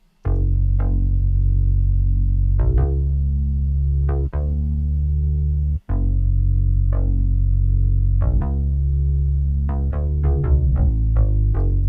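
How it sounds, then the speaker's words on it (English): A deep electronic bass line plays alone, loud and sustained, with plucky attacks marking a repeating riff of held and quick notes. "So the bass sounds like this,"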